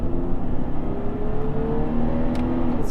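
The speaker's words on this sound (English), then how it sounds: "Pulling onto the highway, we'll do a quick acceleration test." A Chevrolet Trailblazer accelerates onto a highway, its engine and exhaust note rising steadily and loudly from inside the cabin, with a climbing drone throughout and no talking.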